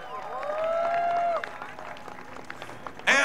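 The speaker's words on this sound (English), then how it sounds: "Please give them a big round of applause joining us here at the Tour of Alberta." Crowd applause for the podium at the Tour of Alberta cycling race, with sustained clapping mixed with sliding whistle-like tones, ending in a sudden loud burst near the close.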